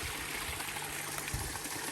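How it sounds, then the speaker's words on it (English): A small creek trickles steadily nearby with a soft, continuous babble of running water, faint and alone. "Beautiful little creek."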